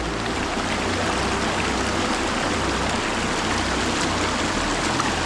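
A small mountain stream in the Gorgany mountains rushing and splashing over stones, a steady, dense, close-up water noise with no break throughout.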